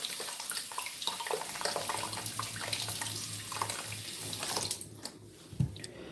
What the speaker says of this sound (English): I'll just give it a little rinse.